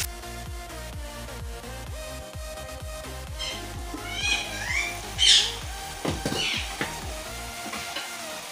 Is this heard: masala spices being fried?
yes